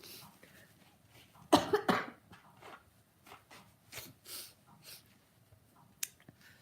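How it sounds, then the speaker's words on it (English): A strong nasal sniff followed by several softer sniffles and snorts, close by, in an otherwise quiet room. "Excuse my sniffing."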